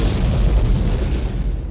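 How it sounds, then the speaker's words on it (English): Booming explosions in a film scene, one continuous deep rumbling roar with heavy low-end that stays loud throughout and slowly fades at the top. "those are nice looking booms"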